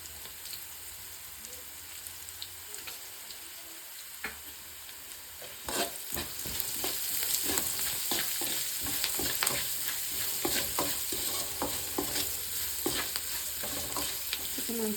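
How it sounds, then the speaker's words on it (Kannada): Onions frying and being stirred in a hot tempering with turmeric and salt for tamarind rice, a steady close sizzle with scraping stir strokes that grows louder and busier partway through. "ಲೈಟಾಗಿ ಈರುಳ್ಳಿ ಕಲರ್ ಚೇಂಜ್ ಆಗೋ ತನಕ ಫ್ರೈ ಮಾಡ್ಕೋಬೇಕು"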